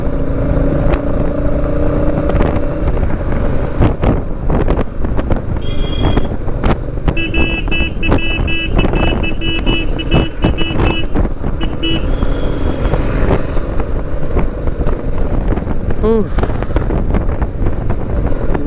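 Royal Enfield Meteor 350 motorcycle cruising along a highway, its engine drone steady and close under heavy wind buffeting the microphone, with passing traffic and a horn toot heard partway through.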